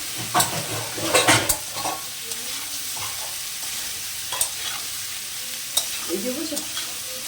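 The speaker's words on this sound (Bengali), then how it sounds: "এটা আমি ভালো করে ভেজে নেব পেঁয়াজটার সাথে আলুটা" Chopped onions and potatoes sizzle in a pan while a spatula stirs them, bursts of scraping strokes over a steady frying hiss, with no talking.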